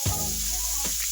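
Ground sausage frying in a pan for keto pizza stuffed peppers, giving a steady close sizzle throughout with a couple of brief louder crackles near the start.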